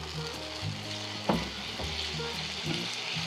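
Thinned upma batter sizzles steadily as it is spread over an oiled tawa, a close, continuous frying crackle with one sharp scraping clatter and soft stirring, without any voices.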